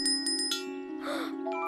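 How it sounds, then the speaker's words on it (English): A bell on a Thomas & Friends: All Engines Go! cartoon engine rings in a few quick, bright dings over a steady tonal background, with a higher chime at the very end. "I've got Percy's lucky bell."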